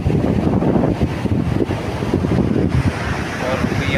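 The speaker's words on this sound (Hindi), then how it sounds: "ये मित्रों समुद्र की आवाज़ सुनते हो ना, कितनी आनंद, और इतनी तेज़ हवा चल रही है" Strong wind roars and buffets the microphone while ocean waves surge and wash nearby, a loud, continuous, blustery rush.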